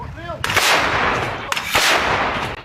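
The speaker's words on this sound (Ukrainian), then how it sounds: "Гармата!" Two heavy artillery cannon blasts boom a second apart, each a sharp crack followed by a rolling, roaring echo, loud and outdoors.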